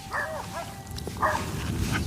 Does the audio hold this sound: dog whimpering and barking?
yes